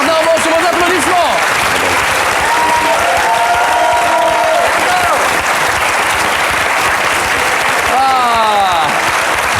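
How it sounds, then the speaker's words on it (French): Loud, sustained studio audience applause fills the whole stretch, with dense clapping throughout and brief cheers and voices rising through it. "Gérard Darmon, sur vos applaudissements"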